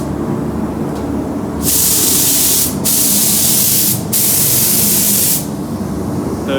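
Aerosol spray paint lays a tack coat onto a Traxxas Maxx RC car shell in three loud, close hissing bursts separated by brief pauses, over a steady background rumble, with no talk.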